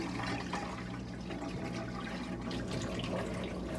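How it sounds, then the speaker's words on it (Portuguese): Hot water being poured and drained off cooked chicken for stroganoff in a home kitchen, a steady rushing splash of liquid that runs without pause, close and fairly loud. "Tirando a água quente aqui dele."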